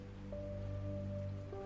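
Steady rain falls as a story sound effect, a soft constant hiss with low tonal hum beneath it, even and unbroken throughout.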